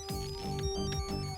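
A telephone ringtone in a Hindi TV serial scene, with a repeating melodic electronic ring sounding clearly and steadily throughout.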